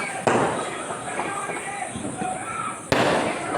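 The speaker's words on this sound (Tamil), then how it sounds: "எங்கள் ஏரியாவில் உள்ள பசங்கள் வெடி வெடி போட்டு வீட்டில் புளிமத்தாப்பு பிடித்து ராக்கெட் போட்டு" Firecrackers and rockets go off around a residential neighbourhood during Diwali celebrations: a dense, continuous crackle and rumble of distant bursts, with two sharp nearby bangs standing out, and voices faintly mixed in.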